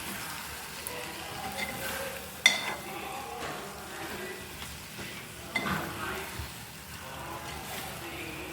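Spicy chicken curry being stirred in a pan, soft scraping and light sizzling at low volume with a couple of sharper clinks of the spoon against the pan.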